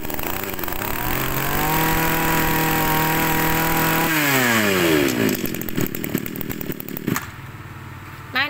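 A Komatsu Zenoah Z12 26cc grass trimmer engine runs close and loud. It holds a steady buzzing note, revs up sharply partway through, then drops back to a rough, sputtering idle.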